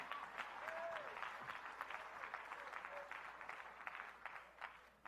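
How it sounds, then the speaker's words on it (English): An audience at a leadership talk breaks into applause, a faint, somewhat distant patter of many hands with irregular louder claps poking through for about five seconds. "come on, clap your hand"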